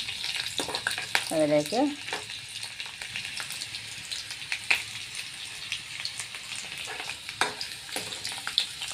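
Mango pickle ingredients sizzle and crackle in a hot pan while a spoon stirs them, the frying hiss continuous with scraping strokes, and a voice briefly speaks over it.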